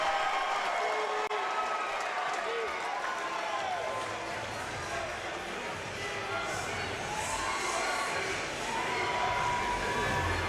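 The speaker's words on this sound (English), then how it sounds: "The chant of UFC now from this very pro Mikey England crowd" A fight crowd at an MMA event roars and applauds steadily after a rear naked choke submission, a dense distant wash of cheering and clapping under a commentator's voice.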